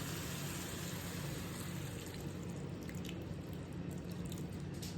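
Water pours steadily into a pot of bitter gourd (ampalaya) being cooked with salt and fish sauce, a faint continuous trickle and splash heard alone for a few seconds.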